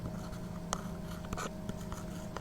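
A teacher writes out a maths solution about a right triangle, the pen or marker scratching in short strokes and taps close by, with a soft tonal hum in the background and no speech.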